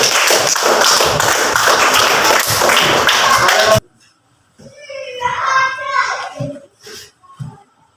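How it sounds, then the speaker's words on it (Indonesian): Students in a classroom applaud a presenting group, dense clapping and cheering running loud for several seconds before cutting off abruptly, followed by a teacher talking. "Kita beri aplaus dulu untuk kelompok 1."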